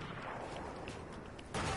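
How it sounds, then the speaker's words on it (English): Burst of gunfire in a Fortnite match, a rapid run of shots in the mid-distance over a busy game soundscape, ending with a louder blast. "Someone's shooting me."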